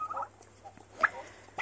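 Turkey poults let outdoors for the first time, giving a few thin, high peeping calls spaced out over a quiet background, close and soft.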